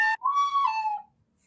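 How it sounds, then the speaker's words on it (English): A slide whistle toots a short note, then slides in a wavering pitch before trailing off, heard clearly and alone. "Collection of random slide whistles."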